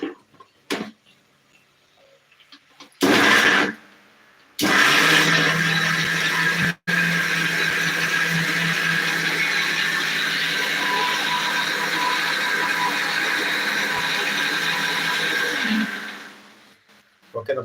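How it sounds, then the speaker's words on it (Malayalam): A mixer grinder grinding masala whirs loudly in short bursts, then runs in one long continuous grinding roar for about ten seconds before stopping. "ഇനി നമുക്ക് മിക്സിയിൽ വെച്ചൊന്ന് നന്നായിട്ടൊന്ന് അരച്ചെടുക്കാം"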